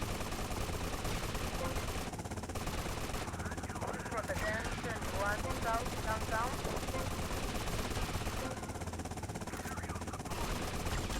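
Rapid bursts of automatic gunfire in GTA Vice City, loud and continuous, with a muffled voice talking underneath in Turkish and a constant rumbling background.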